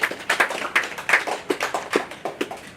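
An audience at a crane truck launch event for a power company claps in a short, lively burst of fairly close, steady applause without other sounds.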